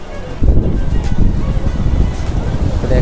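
Steady roar of surf washing onto the shore at Diu, mixed with gusty wind rumbling across the microphone, continuous and fairly loud.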